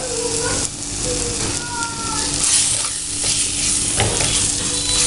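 Coriander powder sizzles and fries in a clay pot for chicken curry, a loud, continuous hiss with scraping stir strokes close by, and no talking.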